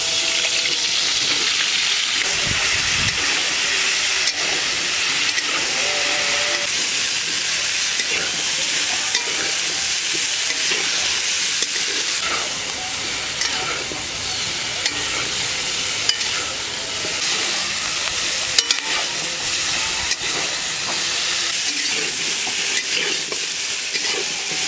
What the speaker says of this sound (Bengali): এবারে কপিগুলো ভেজে নেবো।